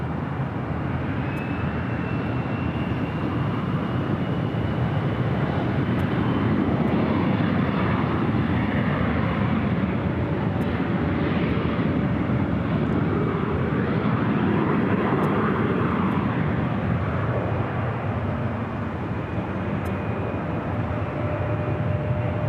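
A Hawker business jet taking off from runway 24 left at LAX gives a loud, steady, broadband engine roar that lasts the whole stretch, with no talking over it.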